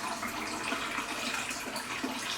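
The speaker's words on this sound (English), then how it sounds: "Get the hot water on, folks." Hot water running from a tap while making strawberry cider, a steady close rushing stream that holds evenly throughout with no talking.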